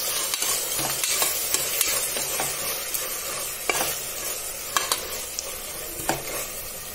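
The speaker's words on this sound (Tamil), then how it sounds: "ஃபர்ஸ்ட் இதை நல்லா ஆயில ஃப்ரை பண்ணிக்கோங்க." Ginger garlic paste and spice paste fry in oil for a cauliflower biryani, a steady close sizzle broken by scraping clinks of a spoon stirring the pan, with no talking.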